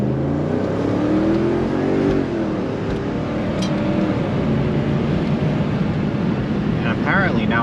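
A Mercedes CLK 430 with its primary and secondary catalytic converters deleted cruises at highway speed around 90 mph, a steady loud rush of engine drone, tire roar and wind, with someone talking over it.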